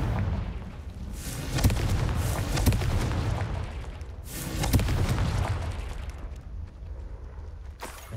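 A Confringo fire spell bursts in Hogwarts Legacy, a rumbling explosive boom with a sharp crack near the start, a second swelling blast midway and a fading rumble, loud and close with no talk.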